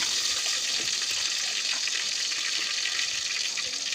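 Cumin seeds sizzling in hot oil for kanda poha, a steady bright hiss that carries evenly throughout, with faint crackles and scattered small pops underneath.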